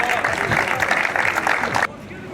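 An audience claps for triathlon athletes, with dense rapid applause and crowd noise that cuts off abruptly near the end, leaving quieter background ambience.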